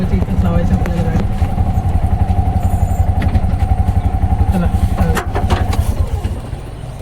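A car engine runs at a steady idle near a crowded Radha Krishna temple in Kalyan East while the vehicle parks, a close rhythmic low throb lasting throughout with people talking over it.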